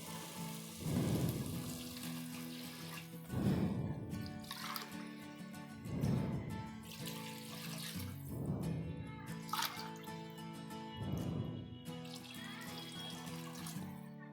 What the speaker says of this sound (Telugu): దానికి కరెక్ట్ ఈక్వల్గా ఎక్స్ట్రా 3 గ్లాసెస్ వాటర్ యాడ్ చేసుకోవాలండి